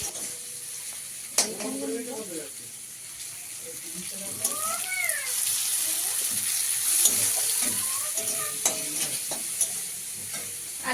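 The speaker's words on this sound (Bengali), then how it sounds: "আর এখন একটু মশলা কষিয়ে নিলাম" Spices being sautéed in a pan for a Bengali fish curry, with steady stirring and scraping over a sizzling background, interrupted by occasional clinks and splashes, with some voices in the room.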